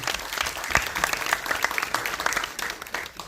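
An audience at a film trailer launch bursts into loud, sustained applause, many hands clapping densely together.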